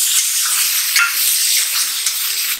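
Loud, steady hissing sizzle of water poured into a hot pan of spices with little oil, crackling continuously and close up, with a few faint clinks beneath.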